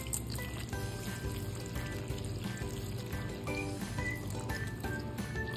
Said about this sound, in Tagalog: Maglalagay din tayo ng tubig